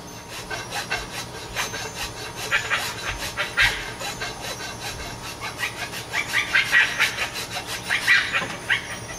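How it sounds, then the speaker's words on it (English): A hand file rasps in repeated strokes, working an arrow shelf into an Osage orange selfbow, close and fairly quiet, with an uneven rhythm of short scraping passes. "now I'm just going to take a file and slowly start working in where I want that shelf to be"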